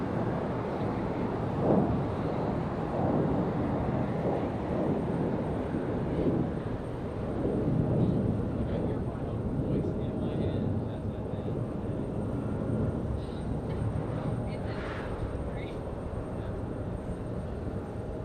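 A Delta Boeing 737 jet rolling for takeoff on a windy airport runway, a steady broad roar that holds throughout under gusting wind noise.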